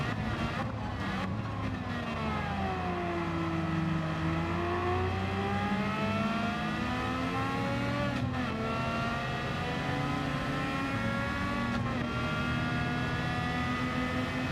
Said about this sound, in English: Now I know this car's going to get faster and faster and faster with every lap.